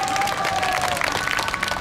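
Audience applause in an outdoor public square following an ocarina ensemble's performance at a citizen-artist culture event, a steady dense wash of clapping with a faint lingering tone at the start.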